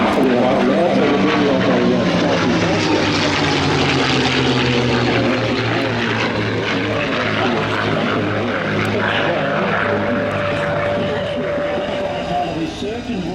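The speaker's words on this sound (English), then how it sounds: "the Spitfire and Mustang are coming in for the right on the outside" Spitfire and Mustang propeller warbirds fly past at the Avalon air show, a loud, continuous engine drone with shifting pitch and a steady roar that swells and fades. An announcer talks over the aircraft throughout.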